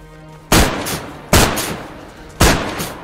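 Three loud, booming 12-gauge shotgun blasts in the game DayZ fire in an uneven rhythm, each one ringing out briefly before fading.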